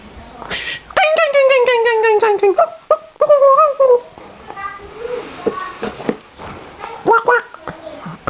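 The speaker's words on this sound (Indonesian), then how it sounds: "Anak anjing. Suara anak anjing." A puppy yips and whimpers in a string of high, quick barks, then quieter scattered yelps and rustling, with faint voices mixed in toward the end.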